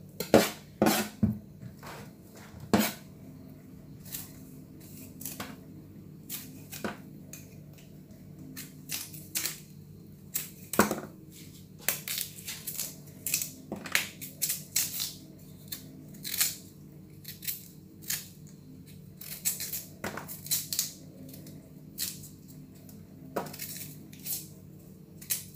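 A knife peels raw cassava (tapioca) root with a long run of quiet, sharp scraping clicks. The strokes come at an uneven pace, with no voices.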